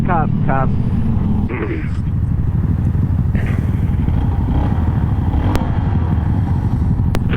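A 2022 Honda Monkey motorcycle engine rumbles and revs loudly nearby while people talk and shout over it.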